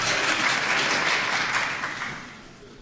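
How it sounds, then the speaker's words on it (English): Clapping from spectators in the U.S. Supreme Court courtroom during the Elk Grove v. Newdow Pledge of Allegiance argument, a dense, fairly loud patter that holds steady and then fades toward the end, with no voices over it. "The courtroom will be cleared if there's any more clapping"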